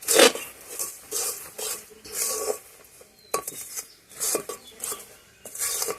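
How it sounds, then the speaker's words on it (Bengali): Sesame seeds are stirred into hot jaggery in a pan with a metal spoon, making repeated bursts of rasping, scraping strokes against the pan. There are about six close strokes separated by short pauses, with no talking. "তিলগুলা দিয়ে আমি ভালো করে মিশিয়ে দিই"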